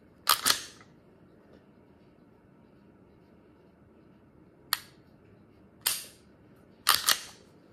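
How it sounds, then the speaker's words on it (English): An IWI Masada pistol gives crisp mechanical clicks up close as its trigger is pulled and reset, with a pair of quick clicks, then single clicks and a closing double, all in quiet surroundings. "So we're gonna do that trigger pull real quick."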